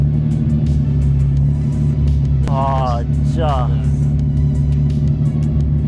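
Lamborghini supercar, an Aventador SV or Diablo VT, droning steadily from inside the cabin while driving, a loud continuous low engine rumble under a man's excited exclamations.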